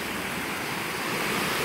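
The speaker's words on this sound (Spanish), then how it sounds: "Frío River, el río frío se llama, chulada." The cold Frio River flowing past a Texas campsite, a steady, close, full-band rush of moving water with no pauses and no voices.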